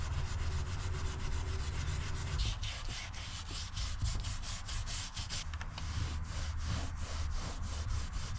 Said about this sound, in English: I'm just going to scrub each little stain